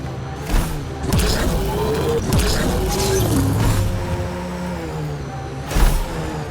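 The Nomad rover in Mass Effect: Andromeda drives along with a loud, continuous engine rumble and rising revs, punctuated by thuds and bumps near the start and end.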